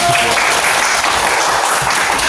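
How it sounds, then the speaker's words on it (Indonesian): Schoolchildren in an elementary classroom clap their hands together in a loud, continuous round of applause that stays steady from start to finish. "Tepuk tangan"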